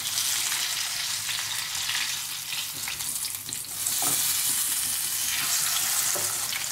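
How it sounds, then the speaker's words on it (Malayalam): Spicy fish fries in a pan with a steady, close, dense sizzle and scattered crackles and pops throughout, with no voices. "ഇപ്പം ഈ മീൻ ഫ്രൈ ആയിട്ട് വന്നിട്ടുണ്ടായിരിക്കും."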